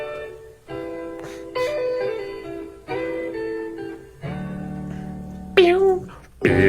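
A sampled original soul song plays on its own, with sustained tonal music shifting through several chords and phrases, ending in a brighter, louder sung passage, no talking.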